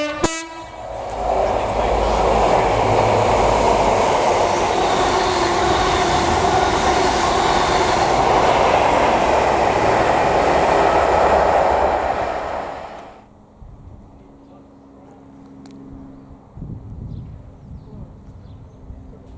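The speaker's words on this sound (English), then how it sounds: "The train arriving at platform 2 is the 1449 service to Edinburgh. This train is formed of 3 carriages." A three-carriage passenger train pulls into Ladybank station in Fife with a loud sustained roar and rumble that holds for about twelve seconds, then drops away to quieter station ambience with faint clicks.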